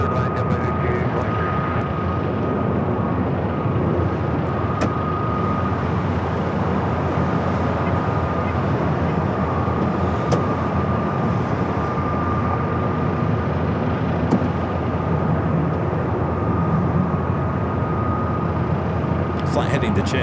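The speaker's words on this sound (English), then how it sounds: "We do have a Delta A380 200 waiting to take off here." A Delta airliner waits to take off at LAX, heard as a steady, loud broadband jet engine roar with a constant whine running unchanged throughout.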